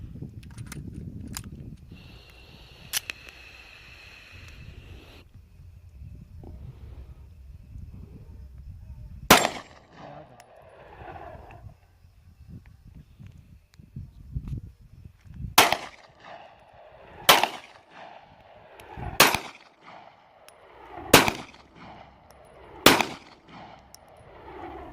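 Gunshots from a 30-round magazine fired at an outdoor range, a few early shots then a slower string of six or seven sharp, loud reports spaced a second or two apart over low background rumble.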